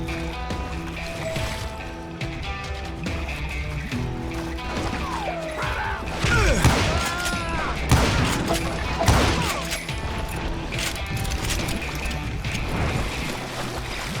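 Gunshots in the Western shooter Call of Juarez: Gunslinger, a few sharp cracks scattered through a dense bed of music and game sound, mid-loud and partly masked.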